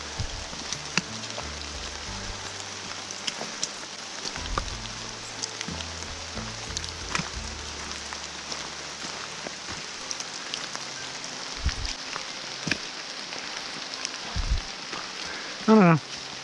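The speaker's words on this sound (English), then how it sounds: "I'm out here in the bloody frickin' rain." Rain patters steadily over a forest trail at Falls Branch Trail in Cherokee National Forest, a constant soft hiss broken by occasional low thumps and handling knocks close by.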